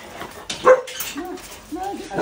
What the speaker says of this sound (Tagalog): todo takbo talaga at todo tahol rin nga nung time na to